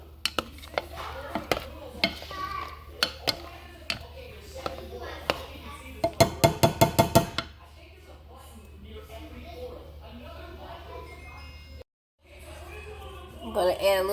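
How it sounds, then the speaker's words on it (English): A utensil clinks and scrapes against a pan while garlic butter is stirred for grilled lobster tails, sharp metallic taps in uneven bursts, including a rapid cluster, followed by a quieter stretch. "Alright, so you just want to stir it up."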